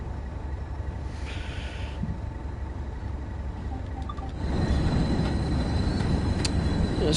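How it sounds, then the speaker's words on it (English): A train on the Tees Valley Line in Train Sim World 2 gives a steady rolling rumble that grows louder partway through, with faint tonal whines and squeals above it. "Is it a loud train?"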